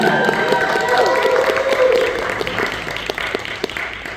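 Applause from an audience at a horror fan convention Q&A, steady clapping that fades a little toward the end, with some crowd noise mixed in.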